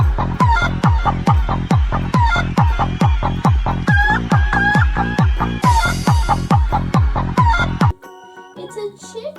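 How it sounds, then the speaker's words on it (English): Toy chicken sound: a rapid, steady run of loud, evenly spaced clucks for about eight seconds, then a short burst of rooster crowing, all close and without talk. "It's a chicken."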